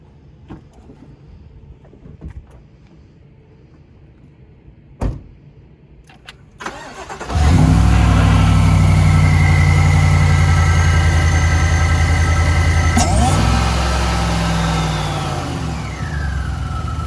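A GM truck's 6.2-litre V8 with a Whipple supercharger cranks and fires up after a few quiet clicks, then settles into a loud, deep, steady idle with supercharger whine, a brief blip partway through, close by.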